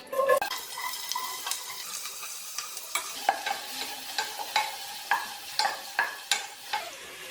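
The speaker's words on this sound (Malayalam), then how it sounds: "അത് നന്നായിട്ട് വഴറ്റി കൊടുക്കാം" Two small chopped onions sauté in a pan for a Kerala-style fish molee, with a utensil scraping and stirring in a steady rhythm over a soft sizzle, close up and with no talking.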